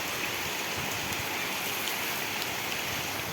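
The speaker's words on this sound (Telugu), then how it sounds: "మా డాబా పైన చూడండి పైనుంచి వర్షం ఎలా కుర్తుంది చూడండి" Heavy rain pours down steadily onto a house's flat terrace roof, a dense, even hiss of falling water that holds at a constant level throughout with no voices.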